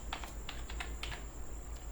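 Rapid keystrokes on a computer keyboard while a verification code is entered during Yahoo email account setup, a short run of close, crisp clicks in uneven rhythm over a low steady hum.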